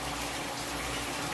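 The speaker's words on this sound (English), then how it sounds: "my water is overflowing past this pipe right here and it's pouring back into the center of the barrel" Water overflows past a pipe and pours back into the centre of a DIY pond filter barrel, a continuous dense splashing gush with no voices.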